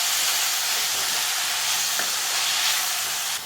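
Mint leaves sautéing with onions in a pan for mint chutney give a steady, close hiss and sizzle with no breaks.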